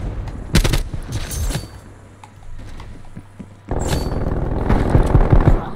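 Rapid bursts of gunfire from a video game, with a fusillade of sharp shots at the start and again from the middle onward, loud and close, over a busy game soundscape.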